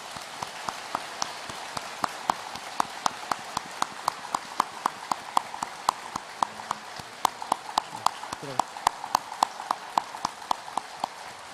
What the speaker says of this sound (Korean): 감사의 마음을 모아서 마지막으로 한번 박수하겠습니다.